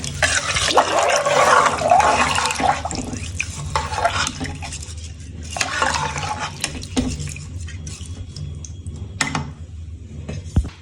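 Watery sloshing and scraping as rice and water are stirred in a pot for mushroom pulao, in irregular bursts with brief pauses, close by and fairly loud.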